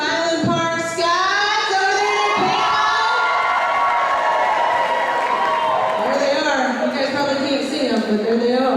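Students at a 2018 convocation cheer and scream together in a loud, sustained crowd roar with shrill whoops, filling a large hall.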